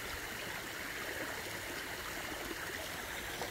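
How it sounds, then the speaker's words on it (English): Water gurgles and rushes steadily through the Jenks Lake flume, a close, continuous broadband flow with no pauses and no voices. "It's flowing pretty good here. It looked low up at the road. But it's got a little gurgle there."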